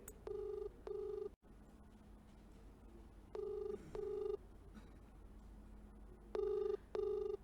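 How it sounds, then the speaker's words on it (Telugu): An outgoing phone call rings back in three spaced pairs of electronic double tones, fairly quiet over a low steady hum. "నటి హేమ ఫోన్ రింగ్ అవుతుంది."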